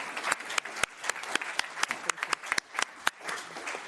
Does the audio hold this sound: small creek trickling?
no